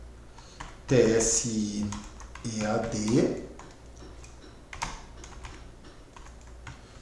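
Fingers type on a computer keyboard while entering text in Notepad, quick light ticking keystrokes scattered across the span, partly under someone speaking in the foreground.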